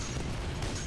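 Dense, violent shotgun-style blasts from a Titanfall 2 firefight fill the moment, a loud continuous barrage with heavy low-end rumble and no pauses.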